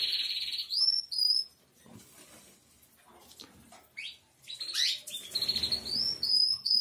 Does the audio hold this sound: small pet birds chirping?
yes